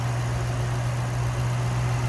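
A 2007 Ford Mustang Shelby GT500 convertible's 5.4-liter supercharged V8 idles with a steady, deep, even hum and constant low rumble, close and unbroken, with no talking.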